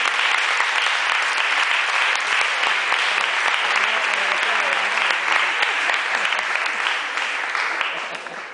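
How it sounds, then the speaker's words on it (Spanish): A live concert audience at Senado in 2015 breaks into dense, sustained applause that stays loud and steady for the whole stretch, easing off only slightly at the very end. "un aplauso para Gabriela Herrera del sonido"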